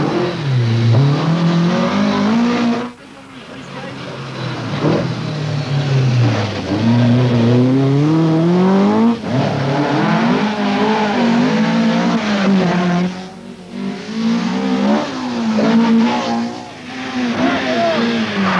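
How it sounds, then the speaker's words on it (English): Rally cars, including a Ford Escort and an Opel, race a stage of the 1981 Donegal International Rally, engines revving hard through repeated gear changes and passes, loud and close throughout. "John Lyons in the escort has taken a minute off the hard-pressed Opel of McRae"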